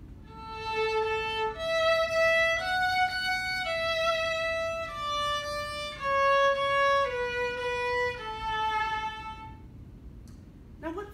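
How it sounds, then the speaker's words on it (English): A short passage of a famous Mozart melody in standard A440 tuning, sounding as a bright single instrumental line of sustained notes that step through a tune over a faint background hiss, with no voices. "Here's a part of a famous Mozart song tuned at 440A Hertz."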